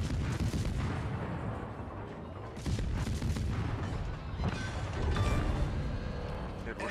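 A battleship fires high-explosive shells in a naval warship game, producing repeated deep booms and gunfire bursts over a steady rumbling battle din, somewhat quiet overall.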